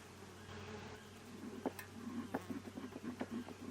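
Honey bees buzz around an open hive during a July inspection, a steady close drone with rising, pulsing swells and a few knocks from the frames being handled.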